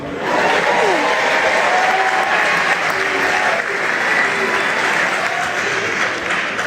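Loud, sustained audience applause at a Congolese comedian's stand-up show in Montréal, dense clapping mixed with crowd voices and a few shouts throughout.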